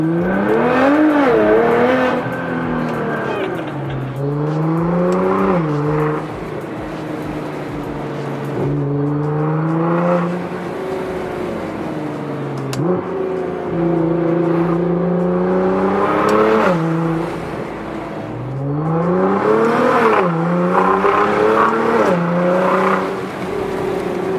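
A Nissan GTR pulling away, close engine notes rising through repeated gear shifts with revving sweeps and brief drops between, loud and continuous, no talk.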